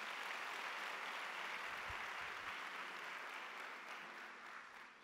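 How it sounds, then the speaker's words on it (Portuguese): A church congregation applauding, a dense, steady wash of many hands clapping in a large room, fading slightly toward the end. "Dá uma salva de palmas a Jesus."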